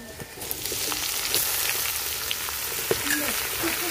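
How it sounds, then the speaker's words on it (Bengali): Boiled flat beans fry with garlic browned in oil for a village-style hilsa fish head dish, a steady close sizzle with scattered pops and occasional stirring clinks, no speech. "তো রসুনটা লাল করে ভাজা নিছি, এখন সিদ্ধ সিম সিম দিয়ে দিই"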